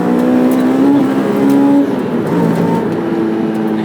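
A 2006 Honda S2000 AP2 sports car driving, its engine droning loud and close with a steady tonal note that rises and falls as it revs and shifts, with no voices over it.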